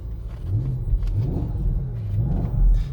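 Porsche Panamera Sport Turismo Turbo S E-Hybrid engine running in sport mode, a deep steady rumble with a couple of swelling revs, close and loud with no talking.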